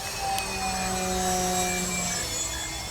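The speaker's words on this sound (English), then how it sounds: "You can hear that motor giving off a nice little high-pitched frequency there." The small electric motor of an RC warbird park flyer gives off a steady high-pitched whine with clear tonal overtones that slowly shift in pitch, sustained over a constant airy rush of the plane in flight.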